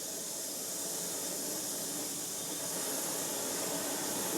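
Several motorcycle camping stoves burn at full power under pots of water being brought to a boil, giving a steady, even roaring hiss that holds for the whole stretch without a break.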